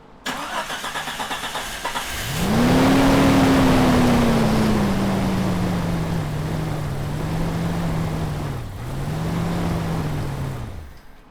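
A Jeep Cherokee XJ cranks briefly then fires up after distributor work, its engine catching with a loud rise and settling into a slightly uneven idle, dipping once before recovering, close by.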